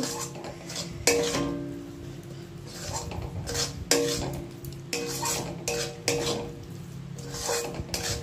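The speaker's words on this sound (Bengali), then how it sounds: "আমি একটুখানি শাহি গরম মশলার গুঁড়ো দিয়ে দেবো, দিয়ে ভালো করে মিশিয়ে নেব" A spoon stirs garam masala powder into a pointed gourd curry in a pan, clinking sharply against the metal every second or so over a low background, with no talking.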